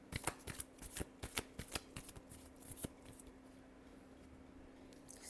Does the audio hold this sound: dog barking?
no